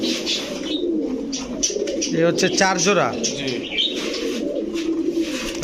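Pakistani Benarasi Kaldam pigeons coo in a steady low murmur close by, with someone talking over them throughout.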